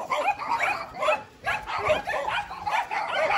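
A golden retriever gives a run of close, repeated barks and yips mixed with whining, loud and continuous with only short pauses between calls.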